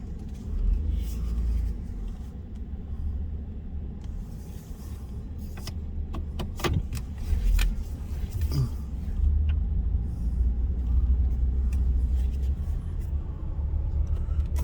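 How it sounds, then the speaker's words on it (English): A car driving along Clubhouse Road in Lakeland, Florida, then turning around, heard from inside as a steady low engine and road rumble with a few faint clicks and knocks from the cabin. "I'm gonna drive and turn around."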